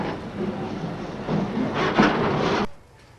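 Train running along the rails, a rumbling, rattling roll with wheel noise that swells briefly, then cuts off abruptly near the end, leaving quiet.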